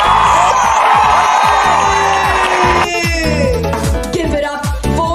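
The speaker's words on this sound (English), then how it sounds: "give a big round of applause for our judges" A talent-show audience cheers loudly, with whoops and shouts forming a dense crowd roar that starts strong and then eases slightly, under bright stage music with a thumping beat.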